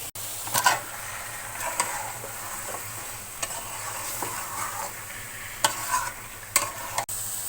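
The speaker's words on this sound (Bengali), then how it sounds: "এভাবে ভালো করে কষিয়ে মশলাটা সুন্দর করে পুরো মাংসের সঙ্গে মিশিয়ে দিব" Duck meat with spices sizzles and crackles in a hot pan while a spatula stirs and scrapes, with a few sharper clicks of metal against the pan.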